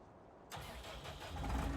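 A tractor engine in the Farming Simulator 19 video game cranks and catches after a half-second of near silence, then settles into a steady low rumble that swells slightly, heard alone with no talking.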